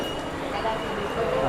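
A Jan Shatabdi passenger train from Madgaon pulls into a busy Konkan Railway platform at night, a broad steady rumble of wheels and carriages under the murmur of a crowd.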